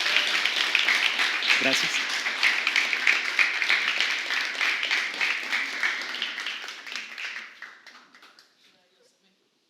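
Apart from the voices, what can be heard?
congregation applauding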